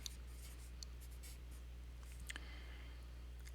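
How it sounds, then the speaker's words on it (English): A pen or pencil writes a math proof by hand on paper, a faint, quiet scratching with small taps and strokes over a steady low background hum. "I'm just going to write the proof now."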